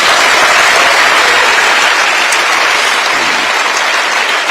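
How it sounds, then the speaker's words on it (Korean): A large audience of newly appointed public officials at a lecture applauds in a dense, loud, continuous wash of clapping that holds steady without any talk. "박수도 한번 하세요."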